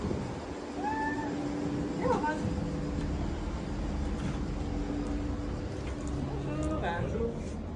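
A cat meows a few times, short rising mews heard moderately close over steady outdoor background noise, with people chatting throughout.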